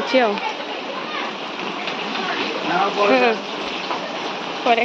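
Steady rain falls outdoors during a home cooking session, a constant hiss that continues under nearby talking and the voices of children.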